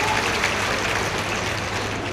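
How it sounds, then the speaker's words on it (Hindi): An audience at an official event in Durg district applauds to welcome a guest, steady sustained clapping from a crowd throughout. "ताली बजा के डॉक्टर साहब का स्वागत किया।"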